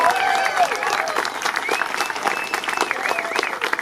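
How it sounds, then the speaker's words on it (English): Applause from a crowd at a community protest meeting in Ozone Park against a new homeless shelter, steady clapping that runs through the whole stretch with some voices and whistles mixed in. "Let's give them a big round of applause."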